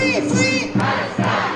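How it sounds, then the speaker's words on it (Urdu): A protest crowd of children and adults, holding Palestinian flags and placards against Israel, chants slogans loudly in unison, two strong rhythmic bursts of massed voices. "مظاہرے کے شرکاء نے اسرائیل کے خلاف اور فلسطین کے مظلوم مسلمانوں کے حق میں فلک شگاف نعرے لگائے"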